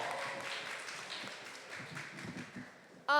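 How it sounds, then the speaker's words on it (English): A conference audience at a panel discussion applauds in a fairly faint, scattered spread of claps that fades toward the end before a voice cuts in. "Give yourselves another round of applause for being here"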